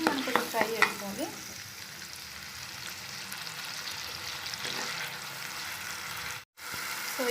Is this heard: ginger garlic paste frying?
yes